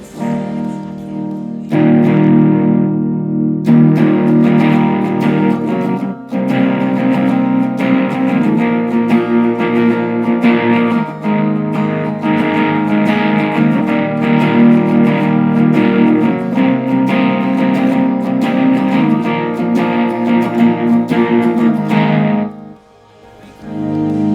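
A heavily distorted electric guitar, a Sire S3 through a Line 6 Spider amp, plays loud, sustained chords that ring out continuously for over twenty seconds before cutting off abruptly.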